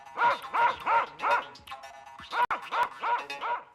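Two thin dogs in a French telling of the Baba Yaga tale bark and yip in two quick bursts of four or five rhythmic, close, loud barks, split by a short pause.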